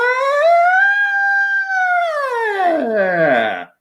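A single singer glides up into a sustained siren-like wail during a vocal range exercise, holding a bright rising tone before sweeping down and trailing off at the end; the voice imitates a siren, loud and close.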